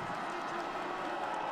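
A stadium crowd at a Paralympic biathlon race in Sochi keeps up a steady, dense cheer and roar at a fairly distant remove, a continuous wash of voices with no breaks.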